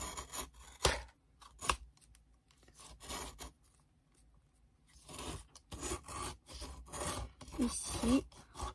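Scissors snip out a rounded shape for a pipe-cleaner Christmas tree decoration, giving quiet, close, intermittent cutting and rasping strokes with short pauses between them.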